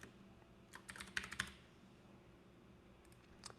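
Quick burst of typing on a computer keyboard, a dense cluster of close, light clicks lasting about a second, followed by quiet and one last isolated keystroke.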